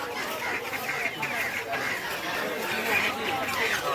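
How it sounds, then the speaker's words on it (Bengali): Chickens cluck and chatter among caged poultry at a Bengali village market, a busy mix of close and distant bird calls over a constant crowd murmur, with people talking in the background. "বিভিন্ন মুরগি আছে, অনেক রকম।"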